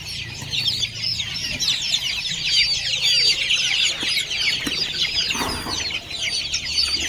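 A flock of desi village chickens in a mesh-enclosed coop clucks continuously, a dense chorus of overlapping clucks near the listener with brief wing rustles, no talking.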